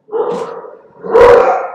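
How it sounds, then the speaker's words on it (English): Dogs barking indoors, two loud close barks or yelps, the second longer and stronger, with no one talking over them. "Sorry, my dogs are barking."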